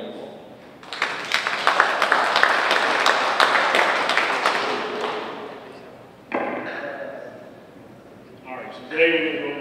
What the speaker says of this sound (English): Dave Randall, give him a round of applause